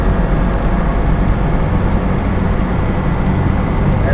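A car accelerates in fifth gear on a slight uphill road, heard as a steady low engine drone with broad road and wind noise from inside the car.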